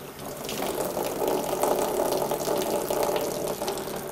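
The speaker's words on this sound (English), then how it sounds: "we're going to see very shortly a small dribble of water starting to come out through the valve" Water dribbles out of a Bermad 43Q pressure relief valve as a steady close hiss and gurgle, with faint mechanical rattles throughout and no speech.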